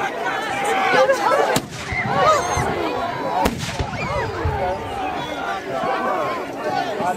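A handgun is fired during a Battle of Tewkesbury reenactment in 2012: two sharp, loud reports ring out a couple of seconds apart over shouting and crowd noise outdoors.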